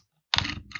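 Keys clatter on a computer keyboard as a command is entered, a short close burst of typing that starts abruptly after a brief silence.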